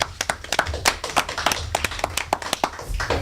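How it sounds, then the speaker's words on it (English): Audience clapping at a town election forum in Templeton, a sparse round of individual hand claps from a small crowd, close and uneven. "another round of applause, please, for all of our candidates"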